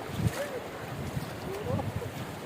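Fast, swollen flood water rushing down a mountain stream after fresh rain in Jebel Akhdar, Oman, a steady broadband roar and splash with wind gusting against the microphone and people talking over it.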